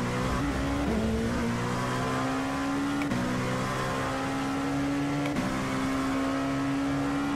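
Race car engine in an endurance racing video game, a loud, steady high drone with sharp upshifts roughly every two seconds, continuous and close, with no talking.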